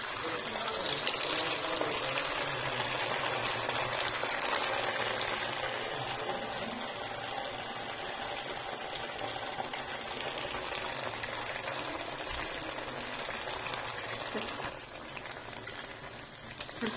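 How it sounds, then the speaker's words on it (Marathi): Sabudana vada frying in oil on medium heat, a steady close bubbling sizzle that holds constant throughout. "जास्त मोठ्या ह्याच्यावर तळायचं नाही, मध्यम आचेवर तळायचं"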